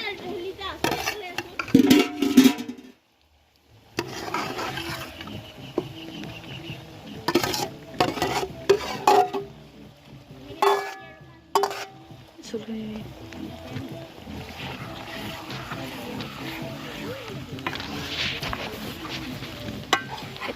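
Local chicken meat fries in a kadai with a steady sizzle and occasional stirring clatter. Someone talks over it through much of the clip, and a voice is heard briefly.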